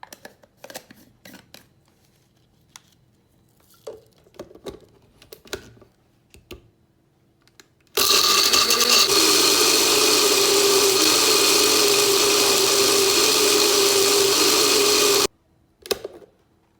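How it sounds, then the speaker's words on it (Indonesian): A kitchen blender whirs loudly and steadily for about seven seconds, grinding rawon spices and keluak with tamarind water, after a stretch of quiet clinks and handling, then cuts off abruptly. "kita blender."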